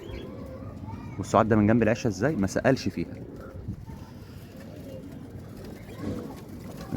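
Pigeons at a rooftop loft in Imbaba give soft, low coos while someone talks over them, with the birds clearest in the opening seconds.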